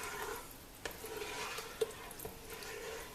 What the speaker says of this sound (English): you can take this and stir it up a little bit